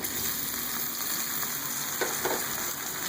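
Tomatoes frying with softened onions in a pan for egg bhurji, giving a steady, close sizzle with a couple of brief stirring clicks and no talking.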